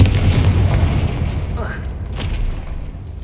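A Confringo blasting curse explodes in the Hogwarts Legacy video game, a deep booming blast with rumbling low-end weight that fades slowly, followed by a smaller crackling burst, with a voice speaking over it.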